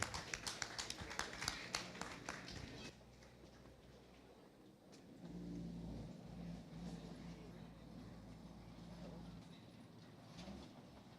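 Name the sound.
audience applause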